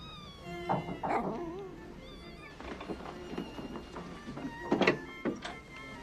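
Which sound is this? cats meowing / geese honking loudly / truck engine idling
cats meowing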